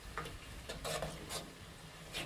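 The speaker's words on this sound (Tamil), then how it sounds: "எண்ணெய் கொதிக்கிறதுக்கு ஆரம்பிச்சிருக்குது." Oil mixed with an herbal blend starts to boil in a pot, with a low bubbling sizzle under repeated stirring scrapes and clinks of a spoon against the vessel, close and steady.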